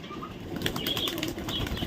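Pigeons flap their wings in several quick bursts close by at a home pet house, a steady fluttering rustle with no voices.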